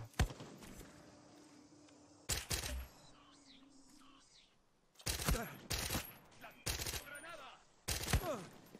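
Pistol shots in Far Cry 6 go off in spaced bursts, sharp loud reports with quiet stretches of ambient game sound between them and no voice over them.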